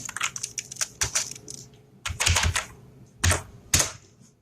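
Quick bursts of clacking keys on a computer keyboard, typed close up in short irregular clusters separated by brief pauses, with no voices.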